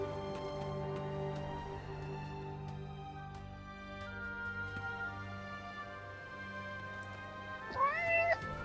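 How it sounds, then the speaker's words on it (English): A cat meows repeatedly in the video game Forspoken, clear and close against a sustained musical score, ending in a rising, wavering cry. "Hey, that cat."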